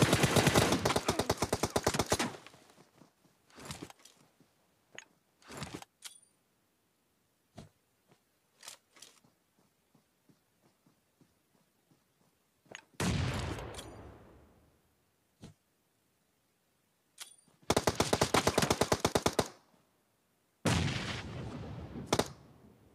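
Gunfire and grenade blasts in the PUBG shooter game crack out in sharp bursts and rapid automatic strings, loud and close, separated by quiet gaps with scattered single shots, with no talk.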